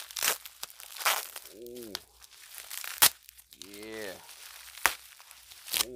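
Packaging tape being torn open on a parcel from overseas holding leather hat patches, giving sharp crackling rips in short bursts, close and loud, between spoken exclamations.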